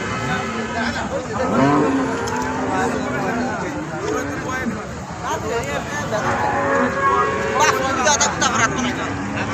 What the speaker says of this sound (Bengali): ওই যে আপনারা দেখতে পেতেছেন অসংখ্য গরু বাছুর আসতেছে হাটে